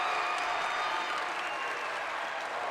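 Loud, dense crowd roar fills a women's college basketball arena at an NC State home game against Notre Dame, a steady wall of cheering and applause that never lets up.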